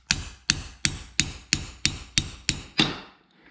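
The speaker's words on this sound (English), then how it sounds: "You just grab a hammer and knock that shaft out right there." A hammer strikes a steel shaft eight times in a steady rhythm, knocking it out of a C4 Corvette seat track, each blow sharp and ringing, close and loud, with no talking.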